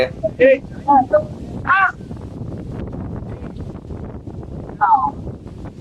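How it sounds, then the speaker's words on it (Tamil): Strong wind gusts outdoors in a village, a steady broadband roar buffeting the microphone, with voices talking over it at times. "என்னடா காத்து இப்படி அடிக்குது?"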